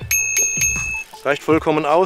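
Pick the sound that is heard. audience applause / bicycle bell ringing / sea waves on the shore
bicycle bell ringing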